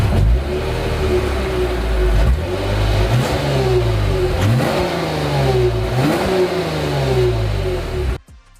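A naturally aspirated 3.5-liter V6 luxury car engine revs hard through repeated rising and falling sweeps, several gear-like pulls in a row, loud and close, then cuts off abruptly near the end.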